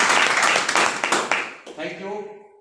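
Loud applause from an audience at a business meeting, dense clapping that fades out as a voice begins speaking near the end.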